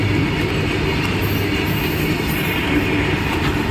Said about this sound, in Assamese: উজনি ৰেল আহি পেলা নামনি ৰেল আহিছে